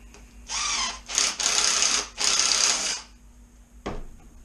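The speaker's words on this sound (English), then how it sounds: "We're going to use this nut driver." A power nut driver runs in three sustained whirring bursts while tightening a lock nut on a DIY pole holder, followed by a short final click, close and fairly loud with no talking.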